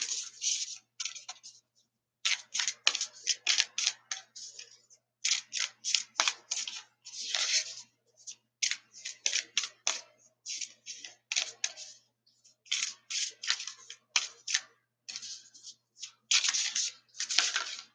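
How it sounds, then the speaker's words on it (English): Tarot cards being shuffled by hand, repeated crisp riffling bursts in irregular clusters separated by short pauses, close and fairly quiet. "I'm going to keep shuffling until you give me a card"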